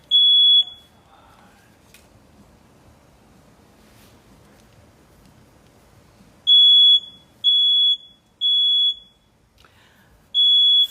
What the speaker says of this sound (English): Fire drill.